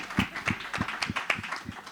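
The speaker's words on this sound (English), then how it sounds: "you can clap, please" Audience clapping at a conference-style event, a steady patter of many hands at moderate volume, fairly close, with no talking over it.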